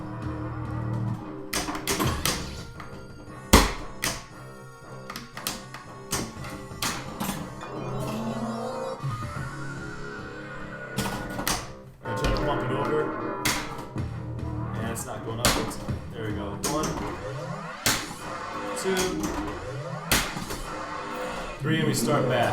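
Steel ball rolling and clacking against flippers and targets on a 1993 Williams Bram Stoker's Dracula pinball machine, with repeated sharp knocks and busy mechanical rattling throughout, under continuous electronic game music and talk.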